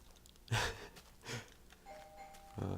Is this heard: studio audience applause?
no